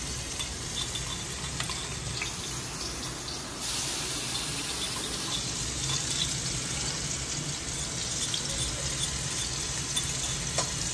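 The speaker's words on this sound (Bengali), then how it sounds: "রসুনটাকে হালকা কিন্তু আমি একটু লাল লাল করে ভেজে নেব" Crushed garlic fries in a little white cooking oil, giving a soft, continuous sizzle with faint hissing crackles throughout, fairly quiet and steady with no talking.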